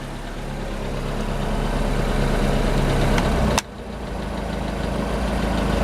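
A Mercury outboard engine on a Bayliner boat idles with a steady, close, broadband rumble, its level rising gently over several seconds, briefly cut by a sharp click and dip midway before the idle resumes, with no talk.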